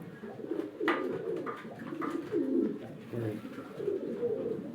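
Domestic pigeons, including a male, coo in low, throaty, repeated phrases close by, a steady layered murmur from several birds.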